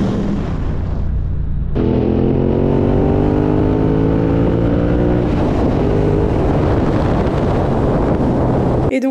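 A KTM motorcycle rides off along a rough road in Madagascar, its engine note rising in steady harmonic sweeps and roaring loud and close under gusting wind buffeting the microphone, with no talk.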